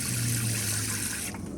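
Water flows steadily from a homemade heated shower on a truck camper built on a 2004 Toyota Tundra, a close, even hiss and trickle that drops away near the end.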